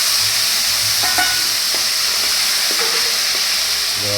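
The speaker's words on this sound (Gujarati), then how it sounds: "પછી એ બધું નાખી અને આપણે એમાં ટમેટા એડ કરી દેવા" Tomatoes fry with cumin and asafoetida in hot oil, giving a loud, even sizzle with faint scraping taps of stirring and no speech.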